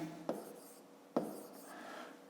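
Pen on paper during a fifth-grade math exercise, two distinct taps or strokes with a soft scratching hiss between them, close and quiet.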